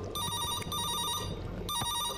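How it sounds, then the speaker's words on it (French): Telephone in a video game ringing with a trilling electronic ring, two bursts separated by a pause, clear and close over faint background sound. "Le téléphone sonne."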